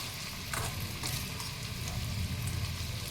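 Steady, dense sizzling of gime saag leaf fritters frying in hot oil in a pan, a continuous crackle with occasional stirring scrapes and no voices.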